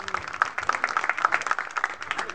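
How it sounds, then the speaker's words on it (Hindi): Audience at a bhajan gathering clapping, a dense patter of many hands that pulses unevenly and holds steady throughout, close and moderately loud. "जोरदार करताली देव"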